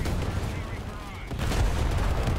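Tank cannon fire and explosions in War Thunder's April Fools exoskeleton combat suits versus tanks event: a dense, rumbling low barrage, louder in the second half, under faint background noise.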